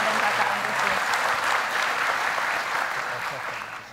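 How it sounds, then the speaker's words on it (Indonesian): A television studio audience applauding steadily and fairly loudly for several seconds, a dense wash of clapping that thins slightly at the end. "kita kasih tepuk tangan dukungan untuk Mama dan Kakak Ambrisius."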